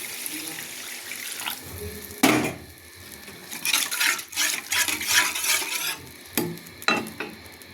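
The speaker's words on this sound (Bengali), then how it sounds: "এবার জল দিয়ে দেবো" Water poured into a pan of mustard paste for a katla fish curry, splashing and running close by in uneven gushes, with light clinks of the pot between pours.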